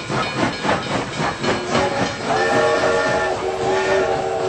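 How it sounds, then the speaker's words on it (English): Steam train pulling into a station in the Lumière brothers' early film of a locomotive arriving at La Ciotat, with rhythmic chuffing giving way to a loud, sustained steam whistle. "otherwise known as train pulling into a station"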